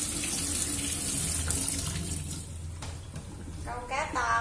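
Vegetables being washed under a running kitchen tap, a steady close rush of water splashing with shifting clatter as the greens are handled, while someone talks over it.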